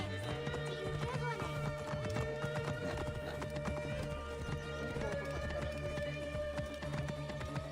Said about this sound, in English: I only wish this horse is faster